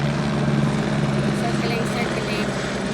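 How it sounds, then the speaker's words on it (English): A black helicopter circles overhead on a sunny day in California, its steady low rotor drone filling the air continuously with no break, while a voice speaks over it. "Oh, black helicopter."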